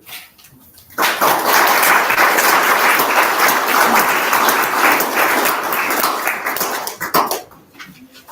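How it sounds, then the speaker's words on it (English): An audience at an author expo breaks into loud, dense applause that swells suddenly, holds steady for about six seconds, then drops away into a few scattered claps. "A loud applause and thank you."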